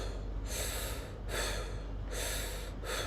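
A man, a doctor lecturing on breathing, takes slow breaths, with three or four breathy inhales and exhales at an even pace, close to the microphone and without speech.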